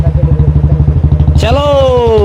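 A motorcycle idles close by with a rapid, regular thumping beat, then revs up into a louder, rising engine whine.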